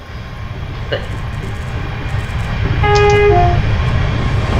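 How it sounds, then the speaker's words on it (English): A steady train rumble carries a short two-tone electric horn blast partway through, sounding clear and fairly close over the running noise, from a Class 380 train on the Glasgow airport rail link. "The horn is alright."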